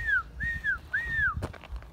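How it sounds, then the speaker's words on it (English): A person out in a pasture gives three rising and falling whistles to call a horse, each clear and sustained, followed by faint scuffing and low background rumble. "I whistle out and watch this."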